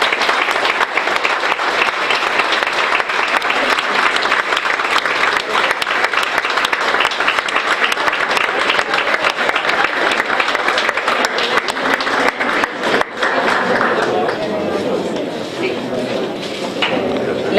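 Vigorous audience applause during a town festival presentation in Graus honouring a couple with a plaque, strong and continuous for over a dozen seconds, then tapering off as a voice comes through near the end.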